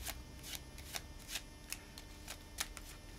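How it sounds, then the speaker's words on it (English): Cards are shuffled close up in quick riffling bursts, a series of crisp flutters repeating in an uneven rhythm against quiet background. "If I take the deck and shuffle it this way,"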